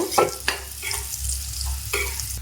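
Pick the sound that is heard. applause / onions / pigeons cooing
onions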